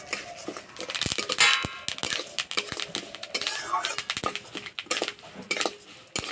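Safflower seeds and other seeds dry-roasted in a pan for protein-rich lentil sweets, with repeated metal clinks and scraping of a spoon against the pan, sharp and close, with no talking.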